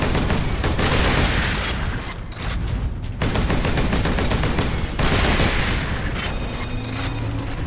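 Relentless gunfire in Warhammer 40,000: Space Marine (2011), dense rapid bursts of automatic weapons and heavy booms rolling on almost without pause, loud and close, with no talk over it.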